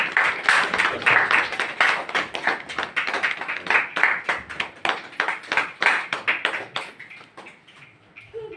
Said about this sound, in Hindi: और जोरदार तालियां बजती रहनी चाहिए